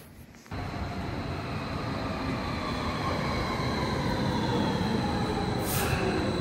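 Steady rumble and rolling rail noise inside a Stuttgart U-Bahn train in motion, continuous and fairly loud throughout, with a faint high squeal near the end and no talk.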